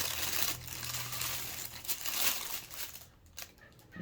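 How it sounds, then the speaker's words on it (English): Close, soft crinkling of tissue paper, continuous rustles and crackles with no speech, quieter toward the end. "little ASMR for you guys, little tissue paper."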